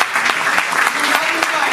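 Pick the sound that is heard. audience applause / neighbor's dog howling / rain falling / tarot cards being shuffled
audience applause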